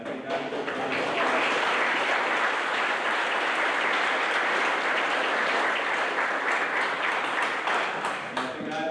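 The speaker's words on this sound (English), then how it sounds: "I think the parents deserve a round of applause for the great job they've done." Wedding guests applaud together in a steady, dense burst of clapping that fills the room and keeps going for several seconds at an even level before tapering slightly at the end.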